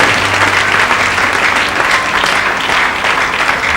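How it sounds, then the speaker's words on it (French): A church congregation applauds loudly and steadily. The clapping is dense and close, with a few faint voices mixed in. "Put your hand together."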